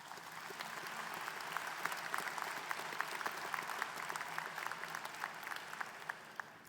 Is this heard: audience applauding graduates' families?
yes